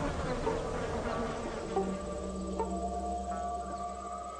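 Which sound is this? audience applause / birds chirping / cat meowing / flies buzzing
flies buzzing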